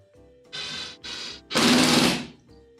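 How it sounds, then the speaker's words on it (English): A power screwdriver drives screws into a wooden table saw stand: two short whirring bursts followed by a longer, louder run, close up with quiet pauses between. "go ahead and just start zipping screws in there"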